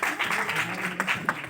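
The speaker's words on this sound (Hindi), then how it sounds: "ताली बजाओ यार।" Audience applause at an alumni meet during a motivational shayari recitation, a steady wash of clapping for about a second and a half with a few sharper claps near the end and some voices mixed in underneath.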